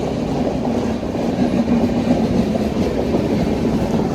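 A Kerala Superfast Express train passes through Wadakancheri, its steady, loud rumble and rolling wheel clatter filling the scene at close range without pause, and nobody speaks.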